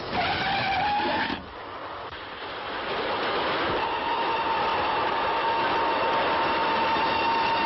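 A train rumbles past on the rails in a 1936 film, loud and steady, with a high screeching tone at the start and a sustained whine running through the roar.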